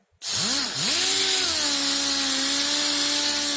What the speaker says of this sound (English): Here's my polisher.